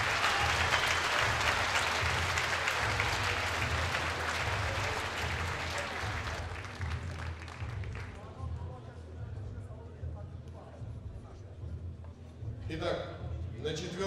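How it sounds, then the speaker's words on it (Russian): An audience at a combat sports bout applauds the fighters loudly, the dense clapping dying away after several seconds as a voice speaks over it, then brief scattered claps return near the end. "Поддержите бойцов аплодисментами."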